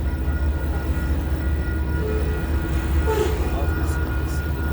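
A loaded corn freight train rolls past near Blair and Fremont, Nebraska, a steady low rumble of railcars and wheels filling the whole stretch without a break.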